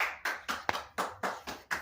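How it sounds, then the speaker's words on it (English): Hands clap in a steady run of about eight sharp claps at an even rhythm, moderately close and fairly soft, with no other sounds competing. "I hear clapping."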